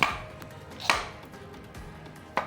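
A knife chops raw green mango into small pieces for a traditional pickle, three sharp cutting knocks spaced about a second apart, close and clear with no talk.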